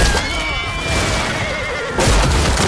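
A horse in a video game neighs in a long whinny over dense battle noise and rumble, then a louder crash-like burst follows near the end.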